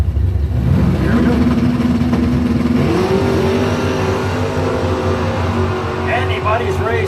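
Doorslammer drag racing cars launching and accelerating down the track in a qualifying pair, engines roaring steadily while an announcer talks over them throughout.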